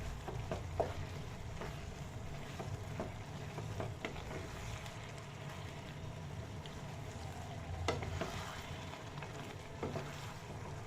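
Carrot halwa being stirred with mawa in a pan, a continuous low sizzle and scraping with occasional spoon clicks against the metal, moderately close and steady throughout.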